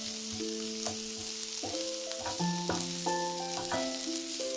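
Chicken with garlic and ginger paste sautéing in a pan for chicken lasagna, giving a steady, close sizzle and frying hiss with occasional stirring, while sustained tonal background music plays over it.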